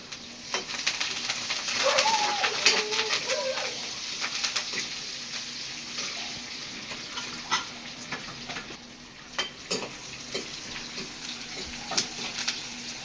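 Onions and curry leaves sizzling and frying in hot oil in a pan, a steady crackle with scraping stirs and sharp pops throughout, with a little birdsong faintly in the background.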